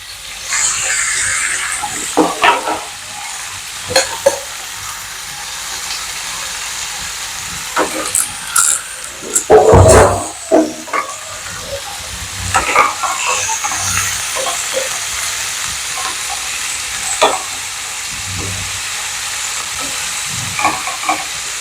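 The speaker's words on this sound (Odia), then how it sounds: "ପିଆଜ ଭାଜାରେ ଆମେ ଏବେ ଚିଙ୍ଗୁଡିଟାକୁ ଦେଇଦେବା" Prawns and onions frying together in a pan, a steady sizzle with scattered clinks and scraping stirs, one louder clatter near the middle, close and without talk.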